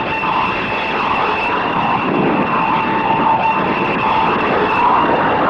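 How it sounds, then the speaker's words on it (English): A loud, steady jet engine roar as a 20-ton airplane lands on an aircraft carrier deck, sustained and close, with a constant high whine over broadband rushing noise. "Putting 20 tons of airplane on a patch of heaving, rolling carrier deck"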